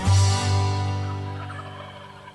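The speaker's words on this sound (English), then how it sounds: "Sit here and hear turkeys right from the porch." Wild turkeys gobble from a porch, one loud rattling call up close right at the start, then a lingering fading tail with no talk over it.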